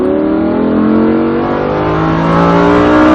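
A race car at Speed Vegas track held at full throttle, a loud, close, continuous engine roar with pitch steadily climbing as it accelerates, no voices over it.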